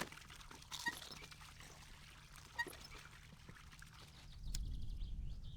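Water pours in a steady trickle in the video game My Summer Car, a soft continuous stream with a couple of faint clicks, then a louder gush toward the end.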